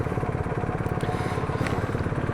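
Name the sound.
motorcycle engine revving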